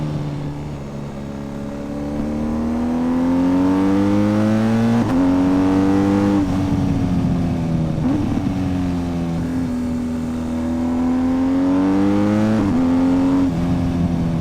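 A 2021 BMW R1250 GS boxer twin motorcycle engine revs up repeatedly through the gears, its pitch climbing and dropping with each shift, loud and close throughout.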